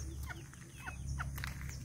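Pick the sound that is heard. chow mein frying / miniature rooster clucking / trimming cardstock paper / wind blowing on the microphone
miniature rooster clucking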